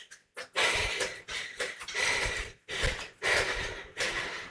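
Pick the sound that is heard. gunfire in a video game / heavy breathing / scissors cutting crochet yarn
heavy breathing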